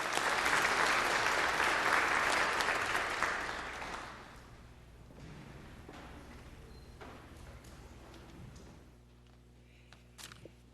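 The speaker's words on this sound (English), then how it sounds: "let's give her a warm round of applause of welcome" A church congregation at Sunday Mass claps warmly in a dense, loud burst of applause that tapers off after a few seconds, leaving quiet room tone with a few soft footsteps.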